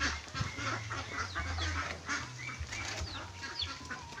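Rhode Island Red chickens flap their wings and cluck up close, with a rustling, honking flurry of bird calls and wingbeats in a farmyard coop.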